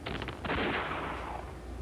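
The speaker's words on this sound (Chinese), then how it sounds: "真是好像是枪声一样的 bombardment。" Rapid bombardment gunfire in the World War II strategy game World Conqueror 1945, a quick volley of sharp cracks followed by a rolling, roaring burst that slowly fades, loud and with no talking over it.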